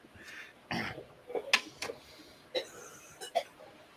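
A few short, dry coughs and throat-clearing bursts come close to the mic, separated by brief pauses, with no other sound around them.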